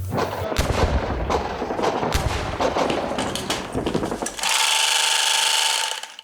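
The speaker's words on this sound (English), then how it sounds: "Have a look at this sewing machine. And it sounds like a gun from the World War." Loud handheld sewing machine running in rapid bursts, harsh and gun-like, followed by a steady high whirring stretch before cutting off.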